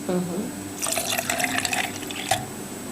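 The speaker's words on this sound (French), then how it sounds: "Voilà, je mets les glaçons. Je mets le jus d'ananas." Pineapple juice poured over ice cubes in a bartender's glass, heard as a short, splashy trickle of liquid with a brief clink near the end, while a person talks quietly in the background.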